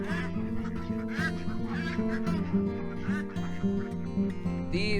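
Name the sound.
grown ducks quacking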